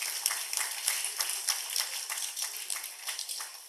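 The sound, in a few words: audience applauding chief guest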